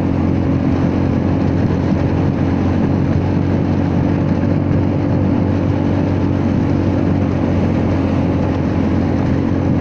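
A Honda Forza 300 scooter engine while riding, a loud continuous drone with steady engine hum and wind rush at a constant speed throughout.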